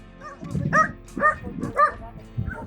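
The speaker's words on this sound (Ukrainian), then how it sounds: "Собаки гавкають тут з усіх сторін." Several dogs bark and yip in short bursts, about four barks in quick succession, fairly close, with no talking, in the Hutsul hamlet of Rabynets, Kosiv district, Ukraine.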